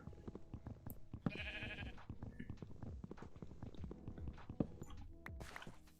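Blocky sheep bleats in a Minecraft hardcore game, a few short cries scattered among footstep-like clip-clop taps and other game noises, with a voice speaking now and then.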